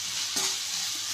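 Masala for Madurai-style egg mass sizzles in a pan while being stirred, a steady high frying hiss with one brief scrape of the spoon midway.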